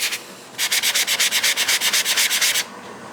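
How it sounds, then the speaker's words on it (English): Rhythmic hand sanding over dried drywall paste on a model train layout, with about fifteen quick, even back-and-forth rasping strokes, close and fairly loud, after a brief single rub. "I'll get everything sanded"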